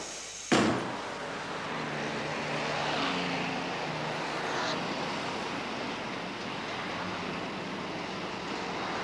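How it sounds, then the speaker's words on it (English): A helicopter passes nearby, its steady broadband rotor and engine roar holding loud and continuous after a sharp knock at the start, with no one speaking over it. "Is that a copter?"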